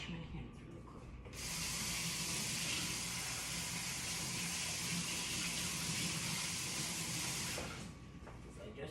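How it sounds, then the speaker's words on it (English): A water tap runs while hands are washed, a steady faint rush of flowing water that starts after about a second and stops shortly before the end, with quiet room sound on either side. "let me wash my hands really quick"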